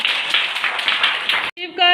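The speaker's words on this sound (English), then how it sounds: "Very good. Clap for her." A class of schoolchildren claps for a classmate who has read a word aloud, a rapid ragged burst of many small hands that stops abruptly, followed by a brief voiced sound.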